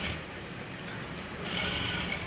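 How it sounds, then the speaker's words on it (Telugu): A sewing machine stitching a smocked hand design on a sleeve, running steadily with a whirring hum that grows slightly louder and busier partway through. "అలా మొత్తం టోటల్గా అలానే స్టిచ్ అయితే చేసుకుంటూ రావాలి"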